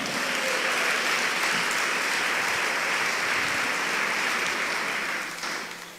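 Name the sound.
congregation applause in church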